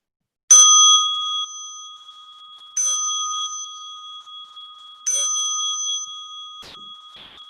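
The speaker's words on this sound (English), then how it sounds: "As you listen to the bell" A meditation bell is struck three times at even intervals. Each strike is a loud, bright ring with a long, pure tone that fades slowly, followed by a softer, short metallic tap at the end.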